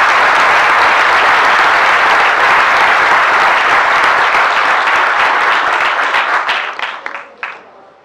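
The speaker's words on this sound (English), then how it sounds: "we will give him a generous round of applause." A large audience at a bird photography awards presentation applauds loudly and steadily, the dense clapping holding for several seconds before thinning out and tapering away near the end.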